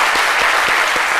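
A television studio audience applauds in a steady, dense wash of clapping that holds at an even level, with faint rhythmic accents from a few hands.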